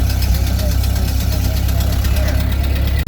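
Ford Model A car engine running while driving at low speed, a steady loud mechanical drone with rhythmic knocking and vibration throughout.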